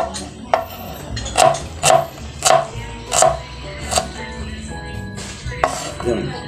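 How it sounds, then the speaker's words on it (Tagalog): A knife slices through an onion on a board, about eight evenly spaced close, solid chops over a low background hum, with no talk. "Ganun lang po yung paghihiwa ng sibuyas."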